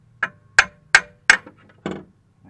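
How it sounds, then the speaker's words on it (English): Five sharp metallic hammer taps, evenly spaced at first and then one softer, drive a suspension part into place on a 2010 Toyota Matrix, close and distinct against a quiet background. "Might just need to tap it a little bit."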